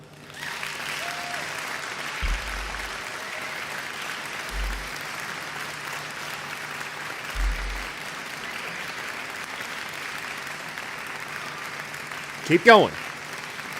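Sustained applause from a crowd in Microsoft Flight Simulator 2020, steady clapping throughout with a few low thumps, a brief spoken remark over it, and a quick rising whoosh near the end.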